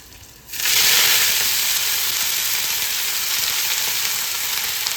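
Dried fish (shutki) and greens hitting hot oil in a pan, a sudden loud sizzle that bursts in after a brief quiet start and then settles into a steady, bright frying hiss.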